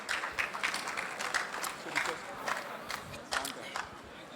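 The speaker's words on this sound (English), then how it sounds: "So a special round of applause for the data team," Applause for the data team at a hackathon presentation: soft, steady clapping from a room of people, a little distant and fairly quiet, with some crowd noise mixed in.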